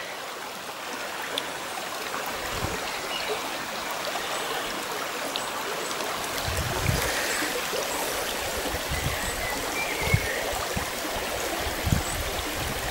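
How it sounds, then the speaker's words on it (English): A mountain stream flows along Hodders Combe near Bicknoller. The water rushes and trickles steadily and fairly close throughout, with a few soft low knocks and no talking. "The music of the streams."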